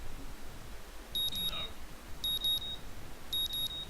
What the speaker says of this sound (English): My morning alarm goes off